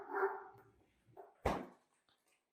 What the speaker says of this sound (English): And you can hear the dogs in the background.